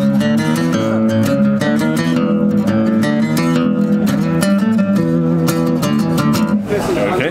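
LAG HyVibe acoustic guitar with its built-in deep octave effect, strumming chords with a thick, bass-heavy low octave. Loud and continuous, with a short change near the end.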